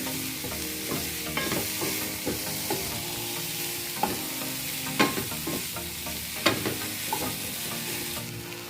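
Onions sizzle in oil in a pan for an Indian-style canned tuna curry, a steady soft frying hiss broken by occasional scraping stirs of a spoon, close and moderately quiet with no talking.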